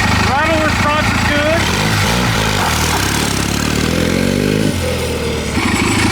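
A turbocharged mini bike built around a cheap generator engine with a 4-speed gearbox revs loudly up and down, a buzzy, rasping engine note with rising and falling pitch, close by, with people talking over it.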